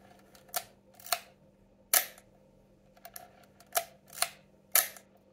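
Leica M2 rangefinder camera shutter firing with its lens detached, a series of about seven crisp mechanical clicks spaced unevenly over a few seconds, close and alone in a quiet room.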